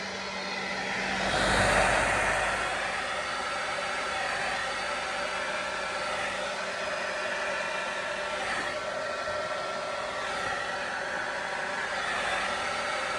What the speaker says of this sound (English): Okay, we'll do a hair dryer.